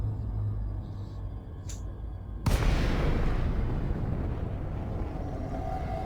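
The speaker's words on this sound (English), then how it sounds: "Jumping out of Super Cruise" A spaceship in Elite Dangerous drops out of supercruise: a low rumbling hum gives way to a sudden loud whooshing boom, followed by a sustained roaring wash that slowly settles.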